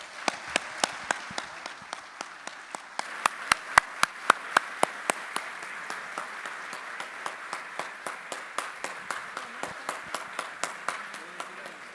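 A small audience at a pension-reform talk in San José, Costa Rica gives rhythmic, evenly spaced applause, a steady sparse run of claps lasting about twelve seconds at moderate loudness in a quiet room.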